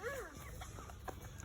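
A chicken clucks briefly up close, a quick rising and falling call followed by a few short clucks, fairly quiet.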